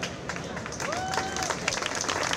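A crowd applauds the winners at the Rally del Salento 2023 prize ceremony. The clapping builds and stays busy, with a voice and a brief whistling tone mixed in.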